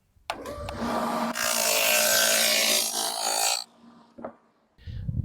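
A Freud 6-inch Super Dado Stack on a saw cuts a dado in wood, a loud sustained whine of about three seconds after a spin-up, then a brief knock and the blade winding down.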